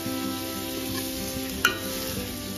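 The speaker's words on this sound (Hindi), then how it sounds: "प्याज को हल्का लाल करेंगे।" Onions frying in hot mustard oil for a spicy mutton curry, a steady close sizzle with one brief clink of a utensil midway.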